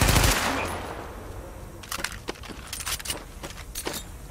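Gunfire in the shooter game The Division opens with a loud blast that fades, followed by a string of sharp, rapid shots and clattering bursts at moderate loudness.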